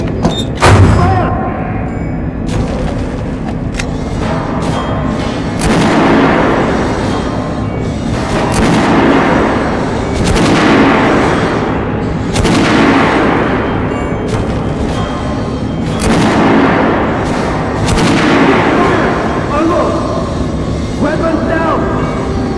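Gunfire from soldiers echoes through a Metro 2033 video game tunnel, loud repeated heavy bursts roughly every few seconds over a rumbling background, with voices shouting commands.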